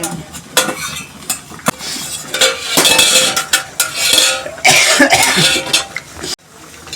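A metal spoon scrapes and taps inside a cooking pot of traditional handvo, a series of close, irregular clinks and scrapes, with a brief cough or throat-clear mixed in, and no talk.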